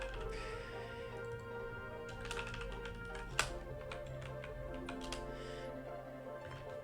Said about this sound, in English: Oh, now you're on my keyboard again.